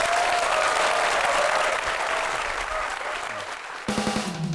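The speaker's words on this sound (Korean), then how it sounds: "힘찬 박수로 청해 듣겠습니다" Lecture audience gives loud, dense applause to welcome a speaker, a sustained close wash of clapping that thins slightly before a brief shift near the end.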